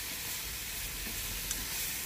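Mushrooms sizzle in hot oil in a pan for a vegetarian braised mushroom dish, a steady close frying hiss with no pauses and no voices.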